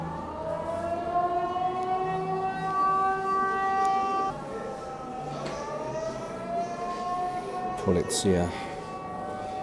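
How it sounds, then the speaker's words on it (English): Wailing air raid sirens in Tirana, Albania rise and fall in long tones, loud and steady, with a brief voice and a passing vehicle sound near the end. "These air raid sirens are so spooky."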